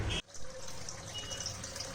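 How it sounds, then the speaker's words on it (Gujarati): Water is poured into flour rubbed with ghee to knead a firm dough for Rajasthani dal bati. A soft, faint trickle and splash run steadily for a couple of seconds after a brief clatter. "હવે આમાં આપણે જરૂર લાગશે એટલું જ પાણી એડ કરવાનું છે"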